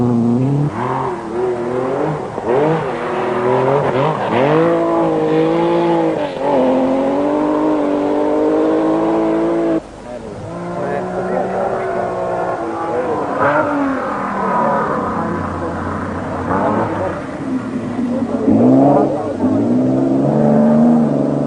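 A Volvo rally car, number 29, racing on a stage of the 1973 1000 Lakes Rally, engine revving and rising in pitch as it passes close, with gear changes and a sustained loud drone under a commentary voice.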